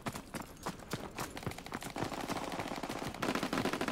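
Heavy gunfire in the video game Call of Duty: WWII, rapid automatic bursts and single shots crackling close and loud, growing denser toward the end, with no talking.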